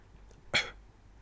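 Beatbox cough snare, a voice imitating just the first half of a cough: a single short, sharp, breathy burst, close and fairly quiet, with silence around it.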